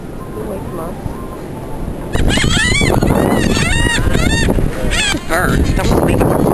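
Seagulls call repeatedly and loudly at a North Carolina beach, a burst of harsh, squawking cries crowding in after a quieter, windy stretch, with voices talking nearby.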